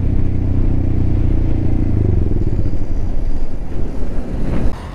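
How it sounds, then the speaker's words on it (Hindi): A Yamaha R15M with an SC Project full-system exhaust runs loud and close, its engine stumbling and misfiring as it fails to pick up throttle, with wind buffeting over it. "ये देखो कैसे मिस मार रही है, ये देखो थ्रॉटल ही नहीं पकड़ रही है"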